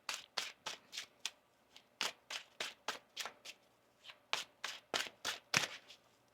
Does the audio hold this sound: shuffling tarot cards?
yes